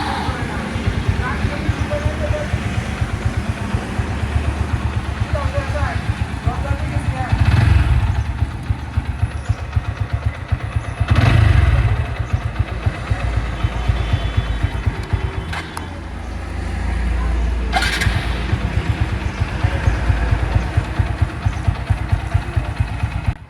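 A fuel-injected TVS 4V motorcycle engine idles close by just after starting, holding near 1000 RPM with a steady low rumble, loud and continuous, swelling briefly a few times.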